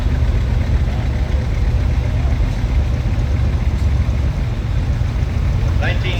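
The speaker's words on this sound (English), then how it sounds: "a 1970 John Deere 4000 diesel" 1970 John Deere 4000 diesel tractor with non-factory exhaust stacks rolling by in a tractor parade at a threshermen and collectors show, a steady low engine drone over outdoor crowd noise.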